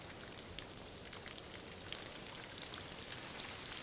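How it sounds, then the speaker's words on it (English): Steady rain falls on a cool, moist mountaintop forest of mossy, fern-draped evergreens in Tahiti, a dense even hiss of drops on leaves that carries on throughout without letting up. "Almost every afternoon brings rain, making this mountaintop one of the wettest places on Earth."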